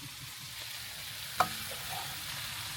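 Vegetables including courgette and carrot cook in a pan outdoors on a nomadic trip while being stirred, giving a soft, even sizzle with one sharp clink of a utensil partway through and no talking.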